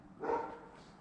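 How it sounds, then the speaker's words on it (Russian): Local dogs in the Spanish village of Santa Susana give a single short bark, faint and distant against quiet surroundings. "Вот местные собаки меня уже услышали, обрехали."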